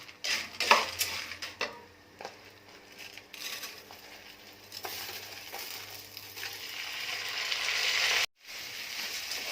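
Washed, drained rice stirred in hot oil in a pot for Egyptian koshari, with a spoon scraping and clinking against the metal over a steady sizzle that grows louder, no talking.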